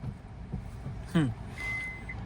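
A car's reverse-gear warning beeper sounds during a beginner driving lesson, a single steady electronic tone lasting about half a second after a brief voice, over low engine and cabin noise.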